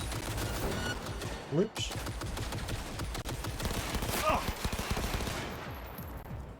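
Automated turret gunfire rattles in the video game Cyberpunk 2077, rapid bursts of shots continuing throughout with a brief pause, alongside a short spoken exclamation.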